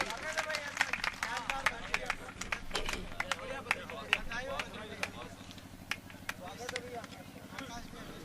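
Scattered, irregular clapping from a crowd at a village poetry gathering (kavi sammelan) welcoming a poet to the stage. The claps are sharp and distinct over a low hum, with background chatter throughout.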